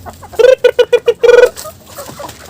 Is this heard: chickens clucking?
yes